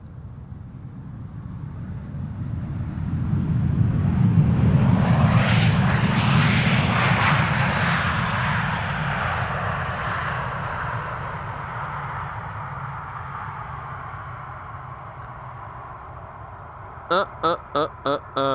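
An airliner roars loudly during landing, its engine noise swelling to a broad peak and then slowly fading over many seconds, followed by a few brief sharp knocks at the end, with no talking.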